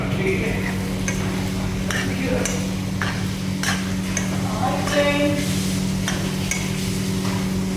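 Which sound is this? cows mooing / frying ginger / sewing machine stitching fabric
frying ginger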